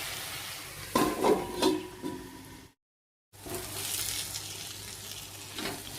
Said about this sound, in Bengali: ভালো করে একটু নাড়াচাড়া করে এবারে ঢাকা দিয়ে দেবো।